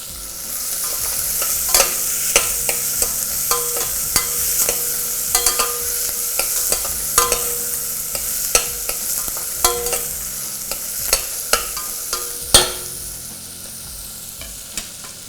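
Onions sizzle steadily in a hot pan while a utensil scrapes and knocks against the metal in irregular stirring strokes, close by, with no talking, while making wheat rava upma.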